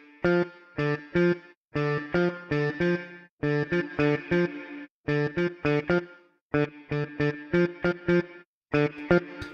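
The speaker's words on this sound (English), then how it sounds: "this little reverb pedal has 7 different reverb algorithms in here" An electric guitar runs through a Flamma FS02 reverb pedal, which offers seven reverb algorithms. It plays loud, repeated bursts of strummed chords in short rhythmic groups, each separated by brief gaps, with no voice.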